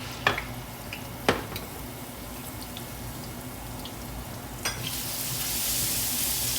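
Garlic dropped into hot leftover oil for beef kaldereta, a faint steady sizzle with a few sharp clinks of a utensil against the pan, the frying swelling brighter near the end.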